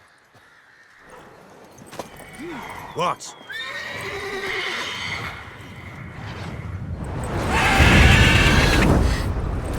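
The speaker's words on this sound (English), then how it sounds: "Worthy of the best horse. The mare is yours." A horse in The Witcher 3: Wild Hunt neighs loudly and whinnies, with clip-clop hoofbeats, in-game voices speaking around it and a rising rush of background noise near the end.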